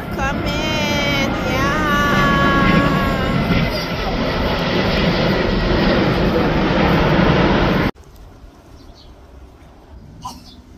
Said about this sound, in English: this is a plane right here coming